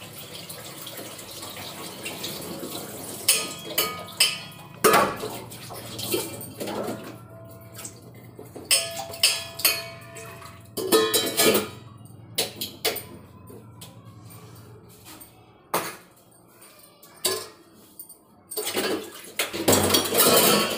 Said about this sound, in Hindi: तो बर्तन धुल लेते हैं पहले क्योंकि धुलना ज़रूरी है